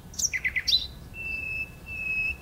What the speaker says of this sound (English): he would stop and listen to the birds